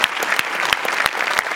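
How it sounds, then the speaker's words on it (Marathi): Dense, steady applause from a studio audience cheering two musical performers on a Marathi comedy stage show, loud and continuous for the whole stretch with sharp individual claps standing out. "जोरदार टाळ्या दोघांसाठी"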